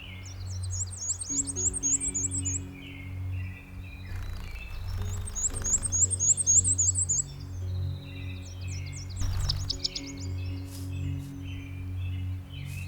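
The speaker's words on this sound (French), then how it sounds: "se laissant bercer par le ramage des oiseaux" Birds sing on a spring morning in a three-part pattern of bright, rapid chirping phrases over a steady low hum, repeating at regular intervals with no talk.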